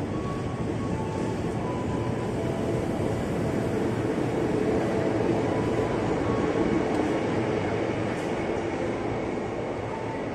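A KRL electric commuter train of eight cars pulls out of Depok Baru station toward Manggarai, its steady low rumble and motor whine rising slightly as it gathers speed, close and continuous with no talk.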